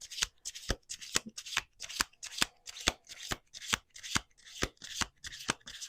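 Playing cards shuffled repeatedly up close, a rapid series of crisp riffling bursts and soft taps in an even rhythm, fairly quiet with no talking.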